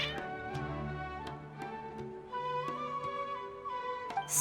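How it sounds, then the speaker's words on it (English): Several cats meow in the Genshin Impact video game, harmonic cries rising and falling over a ticking musical backdrop, moderately loud and close, with repeated calls across the stretch. "Your cats seem pretty worked up."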